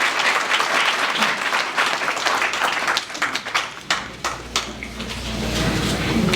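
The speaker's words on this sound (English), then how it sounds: "can we have another round of applause for this LME champion of Lucas?" Applause from an audience honoring a community champion at a public event on the opioid crisis, a dense steady round of clapping that thins briefly into scattered claps before swelling again.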